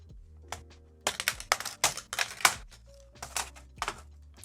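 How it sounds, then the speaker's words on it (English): Close, rapid plastic clatter and tapping in irregular bursts as a Dell laptop keyboard is removed, with brief pauses between. "Now I should be able to remove this keyboard."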